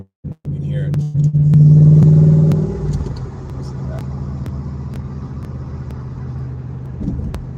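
A low-slung Shelby race car engine rumbles and revs once loudly up close, then settles to a steady idle with street noise around it.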